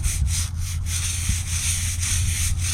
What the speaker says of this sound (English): we're going to take this brush and just kind of start scrubbing away at it